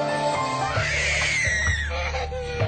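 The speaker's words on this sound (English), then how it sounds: "Her daily screaming fits have taken over the life of her mum" A 21-month-old girl is in a screaming fit, with loud, strained, high wails that rise and fall continuously for under three seconds.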